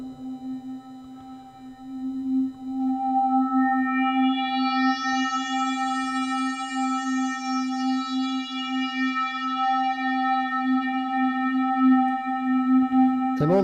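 Synthesizer drone with a delay effect forming an ambient texture: a sustained low tone with stacked harmonics, a bright sweeping swell rising and fading over it, steady and close with no talking.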